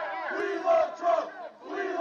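A crowd surging through a street in Washington, D.C., a dense roar of many voices with shouted cries swelling and ebbing in waves, loud and fairly close throughout.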